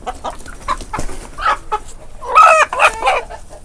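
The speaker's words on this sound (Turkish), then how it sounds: "Horozlar tavuk olacak şimdi." Porcelain Barbu d'Uccle chickens cluck and squawk in a run of short, loud, agitated calls, with a few strained crow-like cries rising near the end.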